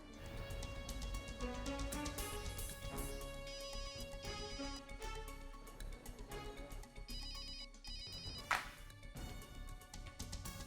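A telephone rings on an outgoing call, repeated electronic ringtone tones over a background of dramatic music, fairly faint and without talk.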